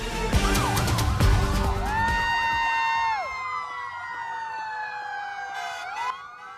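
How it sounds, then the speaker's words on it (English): Several emergency vehicle sirens wail together in a small-town evening street parade welcoming home a high school girls basketball team in Pecatonica, rising and falling tones overlapping loudly with a horn blast early on. "Lots of sirens in Pecatonica this evening"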